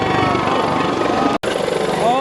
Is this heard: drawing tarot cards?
no